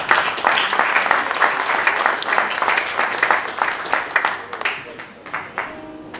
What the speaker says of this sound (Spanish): Por favor, al escenario y un gran aplauso para ellos.